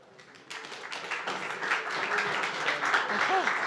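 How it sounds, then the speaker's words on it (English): Audience applause at WalletCon 2026 in Cannes swells after a quiet start into steady, moderately loud clapping from a crowd, with some talking mixed in underneath. "Big round of applause"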